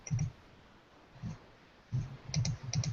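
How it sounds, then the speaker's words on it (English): Keyboard typing on a computer during a SharePoint InfoPath session: faint, scattered clicks in short bursts with pauses, soft and close over a quiet room background. "While she's typing"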